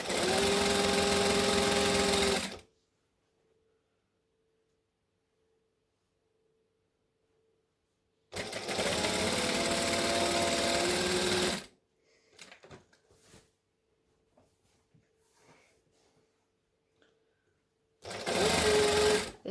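A sewing machine stitches a curved seam on a Butterick 6094 Christmas dress in three loud, close bursts with a steady whirring drone, separated by near silence and a few soft handling clicks.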